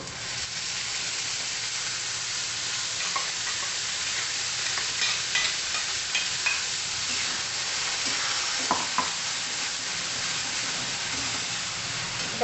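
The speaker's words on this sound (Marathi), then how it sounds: "आता त्याच्यामध्ये आपण जी टोमॅटोची पुरी केली ना ती घालून घेऊ" Tomato puree frying with onions in a pan for tomato chutney gives a loud, steady broadband sizzle and hiss throughout, with a few faint clinks of stirring, close and with no talking.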